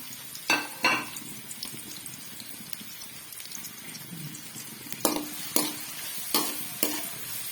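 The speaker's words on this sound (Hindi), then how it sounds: "प्याज डालते हैं इसमें।" Chopped onions and green chillies fry in a pan for a spicy masala pasta, a soft continuous sizzle broken by a few distinct scrapes of a spoon against the pan.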